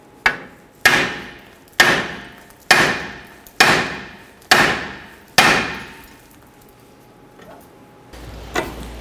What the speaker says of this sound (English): we're going to use our hammer. We're going to strike the knuckle